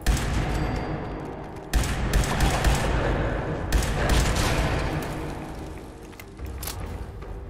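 Rapid gunfire in the post-apocalyptic shooter Fallout 4, bursts of loud close shots and thudding impacts firing in dense clusters for several seconds with brief pauses between volleys, no talk over it.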